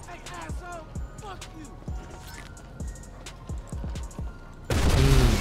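Gunfire in GTA Online during the Cluckin' Bell Farm Raid mission: sharp, repeated shots ring out at uneven intervals under quiet voices, then a loud, dense burst of fire erupts at the end.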